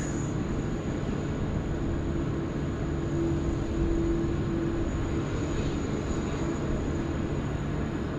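A Qantas Airbus A330 taxis to a gate bay at Sydney Airport, a steady broadband jet engine rumble with a faint whine, held continuous and fairly distant throughout.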